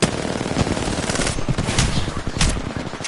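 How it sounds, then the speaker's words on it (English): Rapid automatic gunfire rips through a video game battle, a loud, dense stream of overlapping shots with sharp individual cracks sustained for a few seconds. "Opening fire."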